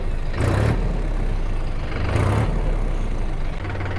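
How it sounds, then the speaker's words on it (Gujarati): A 2025 Mahindra 405 tractor's engine runs nearby with a heavy diesel rumble, briefly swelling twice as it revs, then settling back to a steady drone. "ટ્રેક્ટરને તમને સ્ટાર્ટ કરીને ટ્રેક્ટરનો અવાજ પણ બતાવું"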